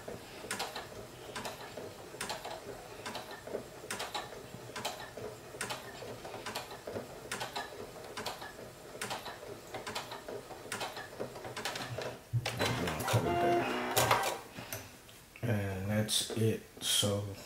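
A Brother SE1900 embroidery machine stitches directly onto a onesie, its needle ticking in a fast, even rhythm, then busier mechanical clatter toward the end.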